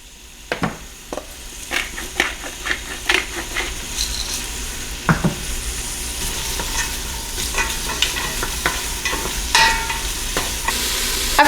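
Onions seasoned with salt and pepper frying in oil for braised red cabbage, a continuous sizzle broken by repeated sharp clacks and scrapes of a utensil stirring the pan, close and fairly loud, no talking.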